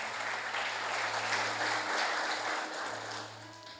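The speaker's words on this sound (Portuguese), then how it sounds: "Aplaude Ele, bem forte." A church congregation applauds loudly, a dense, sustained wash of many hands clapping that fills the room for several seconds, with a low steady hum beneath and a slight fade at the end.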